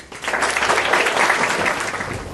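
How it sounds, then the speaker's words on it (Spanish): A conference audience applauds in a dense, sustained burst of clapping that holds steady for a couple of seconds, loud and close. "merece Alejandro Foxley ser recibido con un aplauso"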